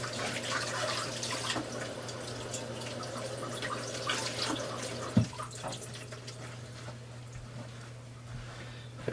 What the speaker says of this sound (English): wash my hands off here.